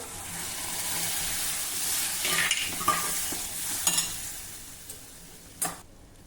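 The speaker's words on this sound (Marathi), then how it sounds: "हे घोटलेलं वरण घालूया." Mashed dal poured into a sizzling tempering with garam masala gives a fading hiss of frying, followed by spoon scrapes and clinks against the pot as it is stirred.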